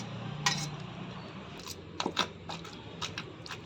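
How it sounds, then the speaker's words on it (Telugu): Brinjal and tomatoes pounded for a roti chutney, with a run of sharp, close clinking knocks in uneven bursts against a low steady hum. "వంకాయలు ఎక్కువ దంచేసేయకూడదు, ముక్కలు ముక్కలుగానే ఉంటే టేస్టీగా ఉంటాయి"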